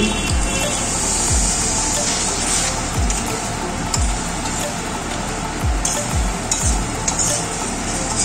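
Water poured into sautéing masala for egg kofta curry hisses and sizzles loudly in the pan, with a continuous spattering fry broken by repeated scraping stirs of a spatula.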